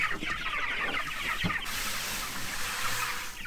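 Chickens in a pen cluck and chatter continuously at close range, a busy layered flock sound with a few sharper calls standing out.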